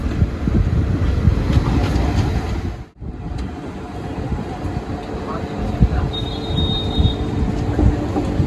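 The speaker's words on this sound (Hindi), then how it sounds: "2 मिनट होल्ड के बाद डिपार्चर हो चुका अपनी झंझारपुर जंक्शन रेलवे स्टेशन से।" The Garib Rath special train pulls out of Jhanjharpur Junction station with a steady loud rumble of wheels on rails, faint squeals and clatter, and a brief dip partway through.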